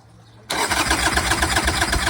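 A Harley-Davidson motorcycle engine cranks and catches abruptly after a brief quiet moment, then settles into a loud, lumpy, pulsing idle close by.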